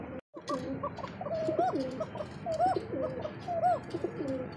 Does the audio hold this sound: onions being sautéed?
no